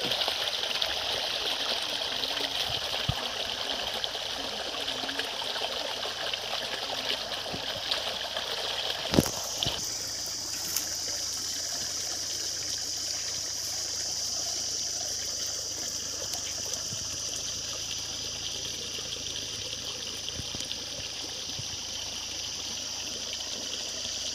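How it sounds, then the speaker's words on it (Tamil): Water pumped by a 900W BLDC well motor rushes steadily along an earthen irrigation channel near Hogenakkal, a continuous close gushing stream with one brief sharp knock partway through. "தண்ணியோட வேகம் சிறப்பாக இருக்குது வாய்க்கால் உடச்சிட்டு போகிற அளவுக்கு"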